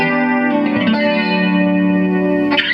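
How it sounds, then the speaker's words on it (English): Electric guitar played through a BOSS Dimension C chorus pedal, sustained shimmering chords with a wide, lush modulation, loud and close, with a brief strummed attack near the end. "Dimension C is my go-to chorus because it just sounds beautiful"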